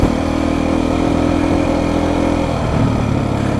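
Beta motorcycle engine running steadily at a fairly loud, even level with a mid-pitched drone throughout, close and without talk.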